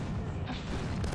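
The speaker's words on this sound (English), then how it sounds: "Oh, that was a different artillery strike, and it killed both of them." Artillery strike in the Roblox combat game Noobs in Combat: a short, heavy, loud boom with a rumbling low end, close and alone.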